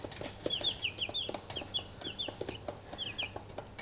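Young chickens cluck and chirp repeatedly in short, rhythmic bursts, fairly close, over a low steady hum, with no talk.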